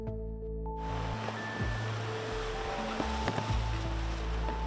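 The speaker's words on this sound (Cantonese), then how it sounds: "湧浪不停拍打岸邊" Typhoon surge waves pounding the Hong Kong waterfront at Heng Fa Chuen, a steady roaring wash of surf and wind with low rumbling swells, no speech over it.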